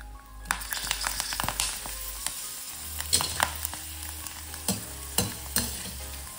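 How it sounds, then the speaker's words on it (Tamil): Dried cluster bean vathal frying in hot oil, with a steady sizzle and repeated sharp scraping stirs from a spoon against the pan, close and clear, with no talking. "இந்த வத்தல் வறுக்கிற அளவுக்கு எண்ணெய் ஊற்றிருக்கேன்"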